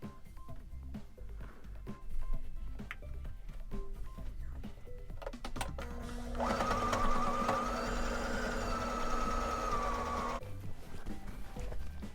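A sewing machine runs a steady seam along the top edge of fabric while upcycling jeans, a close continuous whirring hum lasting several seconds after quieter handling noises.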